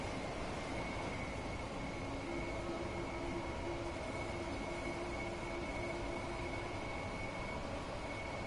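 Heathrow Express train rolling past in Train Sim World 3, a steady, even rumble holding level throughout with a faint sustained whine riding on top.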